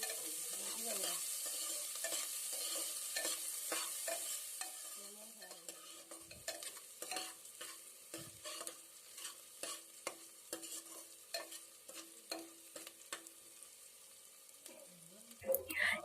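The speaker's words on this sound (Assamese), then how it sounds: "এতিয়া ইয়াতে কাটি ৰখা পিয়াজখিনি মই দি দিছো। পিয়াজখিনি দিয়াৰ পাছত এইখিনি পুনৰ 30 ছেকেণ্ড মানৰ কাৰণে ভাজি ল'ম।" Chopped onions fry and get stirred in a pan for veg pulao, giving a steady close sizzle at first that fades into repeated scraping stirs and soft clicks, fairly quiet, with no talking.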